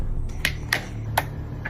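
A few separate hand claps in a casual Filipino group setting, four sharp isolated claps spaced irregularly over low background rumble, fairly close and moderately loud.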